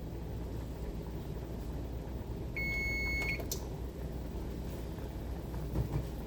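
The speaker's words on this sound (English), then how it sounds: "my garlic bread's about to come out of the oven, so you're going to hear a beep" A single short electronic oven-timer beep sounds briefly over a constant low hum, fairly faint and mid-distance.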